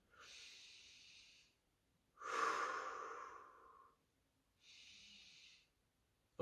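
Slow, deep breaths during a stretching exercise: a soft inhale, a longer louder exhale through the mouth, then another quiet breath, close and alone with no talking.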